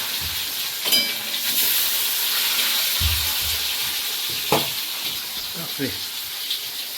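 Rohu fish frying in a pan on a village clay stove, giving a continuous close sizzle broken by several sharp clinks and spatters of a utensil.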